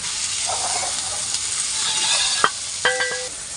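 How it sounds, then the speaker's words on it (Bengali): Potato curry (aloo dum) frying in a pan on a gas stove in a village kitchen, with a steady close sizzle and hiss throughout and a couple of brief clinks of a utensil stirring near the end. "এদিকে আম্মু গ্যাসের চুলায় শুরু করে দিয়েছে আলুর দম রান্না"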